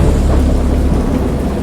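Thunder in the Lovecraft-inspired game Dagon comes as a loud, deep, continuous rumble with rain-like noise over it, heavy and close throughout the short stretch.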